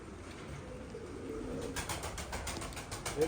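Pigeons in a coop give soft, low cooing close by, with some rustling and faint wing movement.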